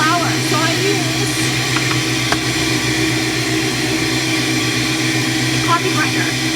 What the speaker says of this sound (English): So I just do little batches, batch by batch, and I grind the oats.